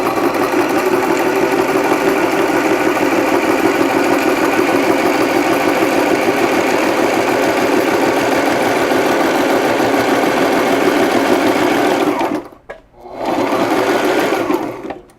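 Sewing machine running steadily and loud up close as it tacks EL wire piping into fabric, a continuous rapid mechanical whir with a brief pause near the end before it resumes.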